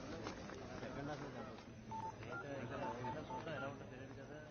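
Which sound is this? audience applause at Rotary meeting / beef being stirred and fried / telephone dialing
telephone dialing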